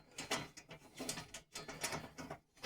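A part being unbolted by hand, with repeated metallic ratcheting and clicking bursts close up, no talk.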